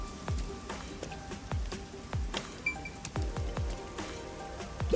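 Steady rain in the video game Master Detective Archives: Rain Code Plus, falling across a perpetually wet city: soft, continuous patter broken by distinct heavier drips and splashes close by.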